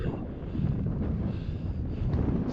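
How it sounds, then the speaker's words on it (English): Steady wind buffets the microphone in a continuous low rumble on the Nantlle Ridge, with no other sounds standing out. "And it's getting windy."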